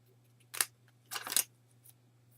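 Scissors trim excess material off the lip of a handmade travel box: two quiet, close snipping bursts, the second longer, over a low steady hum.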